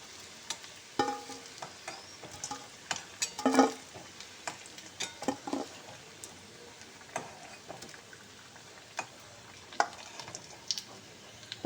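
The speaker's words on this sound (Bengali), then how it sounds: "তো আলুগুলোকে আমি এভাবে করে সব আলুগুলোকে ভেজে নিয়েছি" Potatoes frying in oil for a vegetarian Kashmiri dum aloo, with soft crackles and occasional louder pops and stirring knocks spread irregularly through the clip, with no talk.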